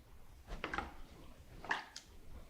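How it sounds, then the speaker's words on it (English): Muddler crushing peaches and other fruit in a glass for a whiskey peach smash cocktail, producing a few soft, wet squishing and pressing sounds in two brief bursts, close and fairly quiet. "So we're just going to muddle our ingredients"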